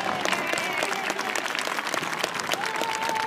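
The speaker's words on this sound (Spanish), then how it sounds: "y pido un aplauso muy grande para ellos." A large outdoor crowd claps loudly for the Alcorcón firefighters during the Santo Domingo town festivities. The applause is sustained and even, with a faint tonal sound running underneath it.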